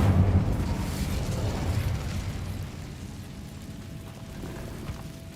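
An Incendio fire spell in Hogwarts Legacy bursts open with a loud, rumbling blast, then fades into a lingering crackling roar that dies away over several seconds.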